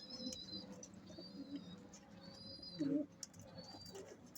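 Fancy pigeons kept by a fancier coo softly in a loft, with low throaty cooing and a louder coo near the end, under faint high chirps and steady background noise.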